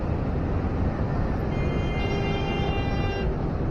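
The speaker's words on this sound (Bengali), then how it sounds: "আর এদিকে ট্রেন যাচ্ছে" A train passes on a route near a fast-flowing river toward Manali, heard as a steady, loud rumbling roar with a sustained horn tone sounding midway, all under constant traffic and water noise.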